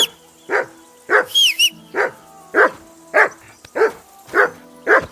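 A dog barks repeatedly in the medieval role-playing game Kingdom Come: Deliverance II, sharp close barks in a steady rhythm, roughly one every half second, with a brief whine mixed in near the start.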